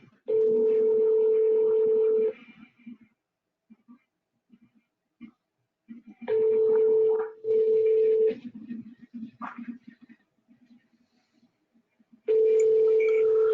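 A phone call is placed: bursts of steady ringback tone sound between pauses, with faint clicks and muffled movement in the gaps and no clear talk.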